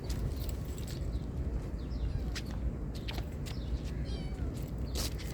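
A cat meows several times in short, high cries over a constant rushing background noise by the seaside.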